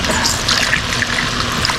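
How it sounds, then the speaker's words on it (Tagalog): Vinegar and then water are poured into a cooking pot, giving a short, steady liquid trickle close by with no talk. "nagyan muna natin ng suka kunti tapos tubig"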